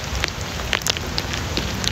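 Steady rain pattering on a surface outdoors, a dense close hiss with scattered sharper drop taps throughout, no voices.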